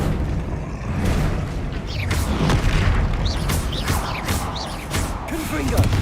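Spell impacts in the Hogwarts Legacy video game, a Descendo slam landing amid a busy fight with a troll, heard as repeated dull booms and bursts with whooshing magical effects over a dense, loud game mix.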